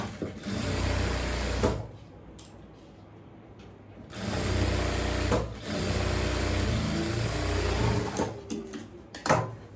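A sewing machine stitching a tuck on a scalloped neckline, running in three bursts of steady whirring with quiet pauses and brief clicks between them, close up.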